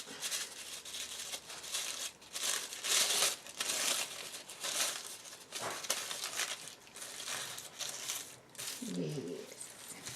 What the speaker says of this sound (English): now what I want to do is crumple it up